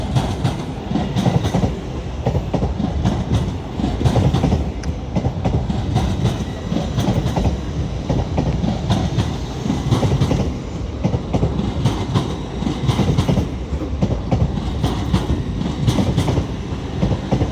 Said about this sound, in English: Departing now is the 1356 LNER Azuma service from Edinburgh Waverley to London to King's